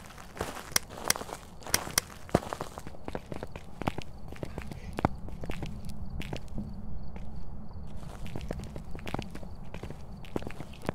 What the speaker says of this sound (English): Footsteps are even, like, louder, too.